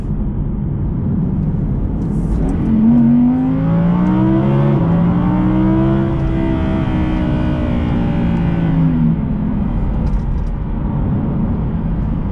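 Audi R8 V10 Performance, a 2020 car, revving its V10 engine; the pitch climbs in a long, smooth rising sweep, then eases back down, loud and steady with no talk over it.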